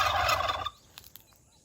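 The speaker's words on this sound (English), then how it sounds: "Yes, we have lots of turkeys here." Farm turkeys gobble in a loud close burst, followed by a few fainter scattered calls against quiet rural background.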